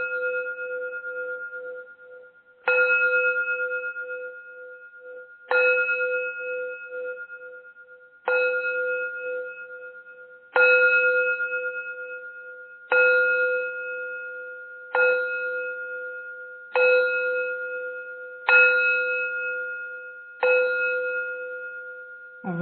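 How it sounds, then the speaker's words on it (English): A gong struck about ten times at steady intervals of two to three seconds, each stroke ringing out clear and metallic and fading before the next, in a quiet setting with no talk. "each time you hear the gong sound now"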